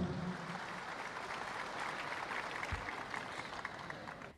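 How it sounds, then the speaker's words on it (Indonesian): A large crowd applauds steadily and loudly at the opening of the fourth Rakernas national working meeting of the PDI Perjuangan party at JIExpo, with sustained clapping and no speech. "Tepuk tangan yang paling meriah hadirin sekalian peserta Rakernas keempat PDI Perjuangan"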